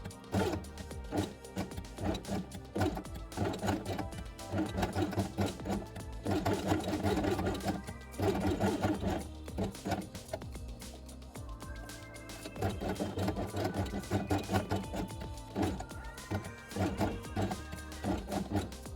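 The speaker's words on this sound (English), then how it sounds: "The last element place on red felt and sew along the edge." Sewing machine stitching along the edge of red felt with red upper and lower threads, a rapid mechanical chattering in several bursts separated by short pauses, close and fairly quiet.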